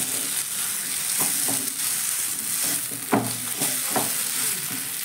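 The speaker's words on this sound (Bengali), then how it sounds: "এবার বাদামটাও খুব ভালো করে মিশিয়ে নেব" Fried peanuts stirred through potatoes in a pan, a steady close sizzle with irregular scraping strokes of the spoon and a few sharper knocks against the pan.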